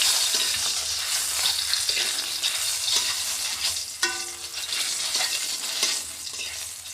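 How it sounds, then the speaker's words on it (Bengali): Eggs fry in a covered pan on a home stove, giving a steady, close sizzle and crackle with a few sharper pops and stirring clatters along the way. "ডিম ভাজি হচ্ছে।"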